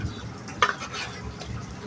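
Raw fish pieces, kalibaus carp, being hand-mixed with turmeric, salt and chili powder, giving soft wet squelching and stirring noises, close and fairly quiet, with one brighter clatter partway through.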